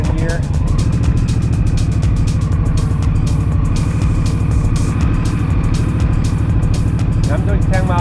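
An Indian Scout Bobber motorcycle rides in second gear, its engine a steady, loud low rumble that holds even throughout, with a rider's voice faintly over it.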